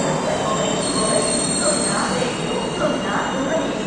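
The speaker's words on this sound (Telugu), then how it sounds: "మచిలీపట్నం టు విశాఖపట్నం ఇప్పుడే వచ్చింది ట్రైను." A Machilipatnam to Visakhapatnam passenger train rolls through Nidadavolu railway station, its wheels squealing loudly and continuously against the rails with a steady metallic rumble, and a voice faintly beneath it.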